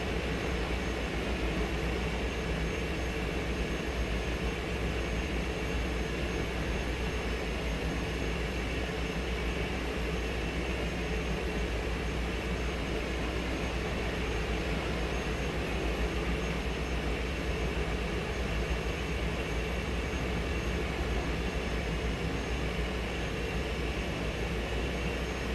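A steady, dense engine roar from an airplane rolling down a runway in a flight simulator game drones on evenly and without a break, with no talk over it.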